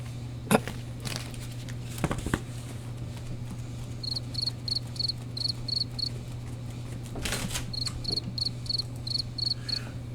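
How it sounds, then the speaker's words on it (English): Crickets chirp in short repeated bursts of high trills, two runs of rapid pulses over a low steady hum and a few faint knocks, fairly close and clear. "Should I do the cricket sound effect?"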